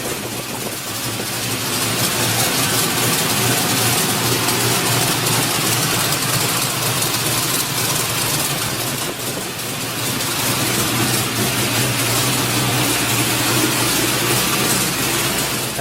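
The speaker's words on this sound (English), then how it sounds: "here's a Subaru with an LS1 Corvette engine in it" A Subaru fitted with an LS1 Corvette V8 engine idles, a steady deep rumble with a slight lope, close and loud with a brief dip partway through.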